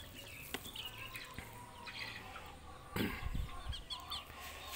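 Faint clucking from several chickens nearby, scattered soft calls over a low background hum.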